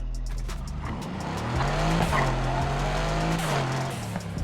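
A car races through the Need for Speed Heat video game, its engine droning steadily while tires squeal and skid in a long rising and falling screech at close range, without talking.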